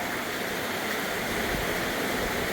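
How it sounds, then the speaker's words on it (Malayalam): Heavy rain water pouring off a roof sheet during a downpour, a dense, loud, continuous rushing splash with no pauses. "ഷീറ്റിൽ നിന്ന് വെള്ളം ചാട്ടുന്നു"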